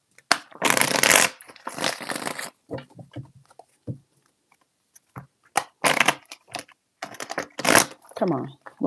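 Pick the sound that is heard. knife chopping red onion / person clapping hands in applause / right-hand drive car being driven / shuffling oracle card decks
shuffling oracle card decks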